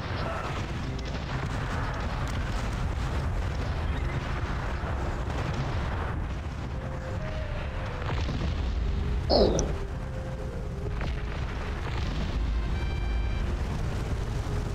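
A battleship fires its cannons on enemy buildings in the strategy game Cossacks: Back to War, a dense, continuous rumble of booming shots and blasts, with one sharper burst standing out near the middle.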